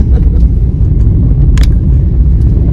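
Steady low engine rumble from inside a car driving along toward the seafront promenade in Blackpool, loud and continuous with a few faint clicks on top.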